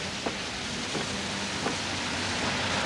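Steady rain heard from inside a moving car, a dense even hiss with faint low road rumble and a few soft knocks, continuous and moderately loud throughout.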